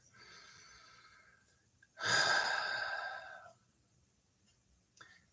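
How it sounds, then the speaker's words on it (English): A deep breath, one loud, close breathy exhale rushing out for about a second and a half and then fading, with soft breathing before it and a small click after. "Take a deep breath."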